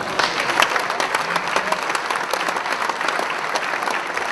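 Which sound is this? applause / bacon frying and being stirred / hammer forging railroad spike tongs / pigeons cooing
applause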